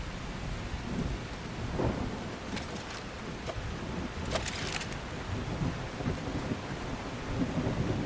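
Rainstorm in the video game The Last Caretaker, with steady rain and rumbling thunder, plus a few sharp crackling strikes partway through, no talking.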